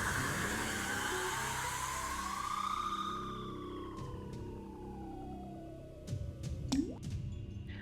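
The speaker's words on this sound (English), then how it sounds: "The little drop of water at the end." A single water droplet falls near the end, a short bright plop following a long, gliding, descending tone over soft background ambience.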